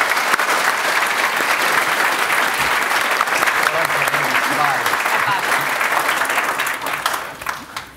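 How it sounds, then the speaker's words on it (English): A crowd claps in sustained, enthusiastic applause that holds steady for several seconds before tapering off at the end. "how about a round of applause for Tina and Derek?"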